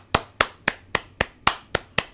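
Eight sharp hand claps ring out at an even, quick pace, each crisp and close, with nothing else around them.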